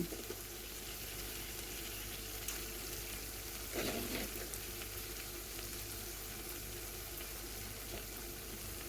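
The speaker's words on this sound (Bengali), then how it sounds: "থ্রি টেবিল স্পুন দই দিয়ে ভালো করে নাড়িয়ে নেব" Yogurt stirred into frying masala on a low flame for masala paneer, a steady soft sizzle with a brief louder burst of stirring midway, no voices.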